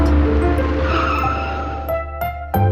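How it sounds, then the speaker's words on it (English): A bus brakes to a stop with a loud, drawn-out tire squeal and skid, followed by a few short clunks as it settles. "When the bus stopped at the main street"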